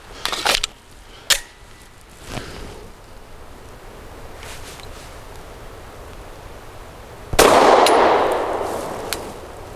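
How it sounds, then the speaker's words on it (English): Loud pistol shots from a ported Zev OZ9C firing Hornady Critical Duty 135 grain nickel-plated rounds outdoors, with one large blast near the end trailing off into rustling noise after a few fainter earlier cracks. "Very soft shooting in this gun."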